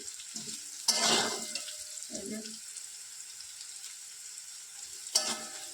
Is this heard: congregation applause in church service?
no